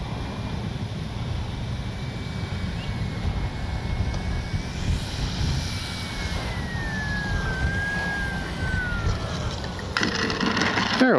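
A Kavan Bristell B23 RC model airplane comes in to land with flaps down. Its engine drones steadily at a distance over constant wind noise, with a thin whine that slowly falls in pitch.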